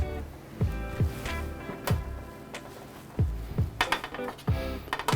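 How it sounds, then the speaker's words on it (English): Tomatillos and jalapenos drop onto a metal sheet pan in a run of irregular thuds and clanks, several close knocks spaced unevenly with light metallic clinks among them and a low hum underneath. "I'm gonna roast all of these and put all of this on the sheet pan."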